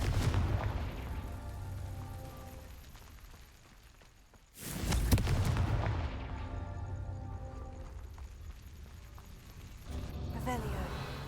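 A Confringo fire-blast spell is cast in Hogwarts Legacy, landing as one loud, booming burst in the middle of the clip. A rumbling tail follows, and quieter game ambience surrounds it.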